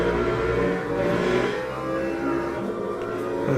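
Race car engines at Le Mans in a sim racing game, BMW among the cars, drone steadily at close range with a sustained mid-pitched roar and slight pitch rises, no talk over it.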